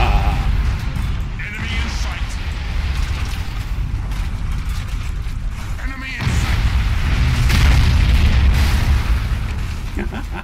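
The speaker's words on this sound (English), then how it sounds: "Fire all forward firing torpedoes!" Naval battle in the game Ultimate Admiral Dreadnoughts, torpedo fire and explosions rumbling in a loud, dense low roar with heavy booms swelling mid-clip, while voices talk over the battle noise.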